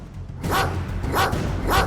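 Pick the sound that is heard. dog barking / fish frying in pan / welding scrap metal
dog barking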